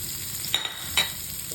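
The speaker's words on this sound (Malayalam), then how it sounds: "മീൻ പൊരിച്ച ഈ പാനിൽ തന്നെ കുറച്ചുകൂടെ വെളിച്ചെണ്ണ ഒഴിച്ച് കൊടുത്തിട്ട് ഇതിലേക്ക് സവാള അരിഞ്ഞത് ചേർത്ത് കൊടുക്കാം" Sliced onions fry in coconut oil in a pan previously used for frying fish, giving a steady close sizzle broken by two sharp bursts as they are stirred.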